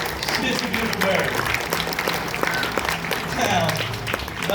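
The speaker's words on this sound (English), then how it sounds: "Let's give the bald eagle a round of applause" Audience at a SeaWorld San Diego animal show applauding a bald eagle: moderate crowd clapping mixed with cheers, somewhat distant, with a voice speaking over it.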